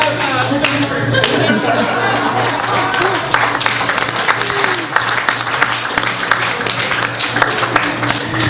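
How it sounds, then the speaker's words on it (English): An audience at a labor forum breaks into sustained, dense applause. The clapping continues steadily throughout, loud and close, with crowd noise mixed in. "let's hold the clapping until the end"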